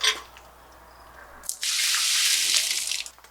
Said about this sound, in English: I'm going to go ahead too and dump out the water that's in that RO.